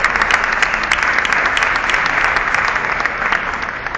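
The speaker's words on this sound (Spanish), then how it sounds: "El aplauso para Alejandro." An audience at a legislature ceremony claps for a guest named Alejandro, a sustained loud burst of many hands that holds steady and eases slightly toward the end.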